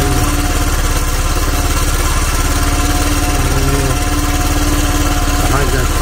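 A vehicle engine idles loudly and close, a steady rapid mechanical chug that runs unbroken for the whole stretch, with faint speech beneath it.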